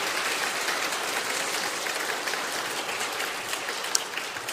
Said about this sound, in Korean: 우리 박수 한번 크게 해드리시기 바랍니다